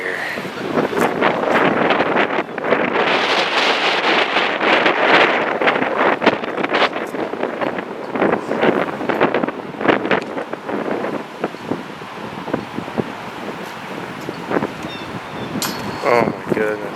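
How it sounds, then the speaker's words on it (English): Strong wind gusting at about 30 on a disc golf course roars and buffets the microphone almost continuously, loud and rough, with people talking underneath. "It's gusting 30 here."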